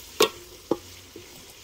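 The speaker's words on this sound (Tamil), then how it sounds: "வெங்காயம் பீன்ஸ் வதங்கி கொண்டிருக்கு" Onions and beans fry in a pan over an outdoor wood fire for Sri Lankan kottu mee, giving a faint steady sizzle marked by three sharp scrapes of stirring, with no voices.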